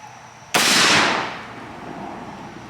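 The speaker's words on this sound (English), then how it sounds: "Firing the Winchester." A Winchester rifle shot fired at a body armor plate on a shooting range, a single sharp, loud crack followed by a long echoing decay.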